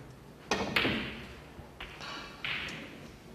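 A snooker cue strikes the ball during a professional Paul Hunter Classic 2013 match, giving a few sharp knocks and clicks over soft hall ambience.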